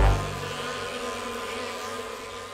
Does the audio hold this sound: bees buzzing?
yes